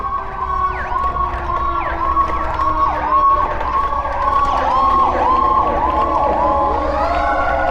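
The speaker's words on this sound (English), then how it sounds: "More fire trucks." Fire trucks, including engine company and technical rescue units, pass with loud, continuous wailing sirens that overlap and sweep up and down, steady and close throughout.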